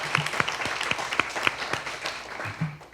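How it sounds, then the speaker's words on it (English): A small audience at a quarterly community breakfast claps for school board candidates; the applause is light and sparse, with distinct individual claps at a moderate distance and no talking over it. "Let's give them a round of applause."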